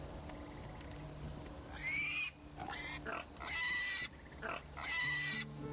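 Pigs in the video game Divinity Original Sin II give several short squealing oinks in quick bursts over a low background, with no talking.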